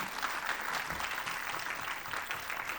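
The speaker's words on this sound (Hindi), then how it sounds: "तो मेरे को लगता है एक जोर से ताली अमेजोन और जो हमारे पार्टनर हैं उनके लिए हम बजा सकते हैं।" An audience at a national conference on disabilities applauds for Amazon and partner organisations, a steady patter of many hands clapping throughout, moderately loud and with no speech over it.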